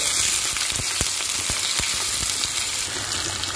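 Boiled ivy gourds fry in oil with cumin and curry leaves, making a steady close sizzle broken by soft, rhythmic taps of stirring.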